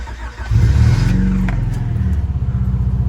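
Honda Prelude with a full custom exhaust blips its throttle up from idle into a deep, loud, raspy rev, then falls back to a throbbing, lumpy idle, close by.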